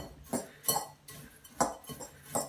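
A utensil clinks against a dish while eggs are mixed, a handful of sharp metallic taps and scrapes in an irregular rhythm, close and quiet.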